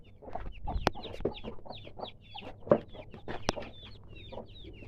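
A mother hen clucks in low, irregular bursts while her chicks peep in thin, high chirps around her, with a couple of sharper calls standing out. The sound is close and quiet, and no one talks.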